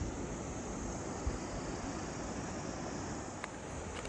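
River water at Manikaran Sahib in Himachal rushes in a steady, loud, unbroken roar with no pauses.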